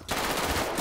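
Automatic gunfire in GTA 5 during a zombie-base defense with machine guns, a dense continuous burst of rapid shots close and loud, filling the moment without speech.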